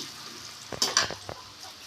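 Potatoes frying in a pan with turmeric and salt, giving a faint sizzle broken by a few quick stirring clinks and scrapes.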